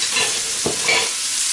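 Thinly sliced leeks go into hot bacon grease in a skillet, a constant sizzle with a brief thump and stirring rustle as they land, no voices.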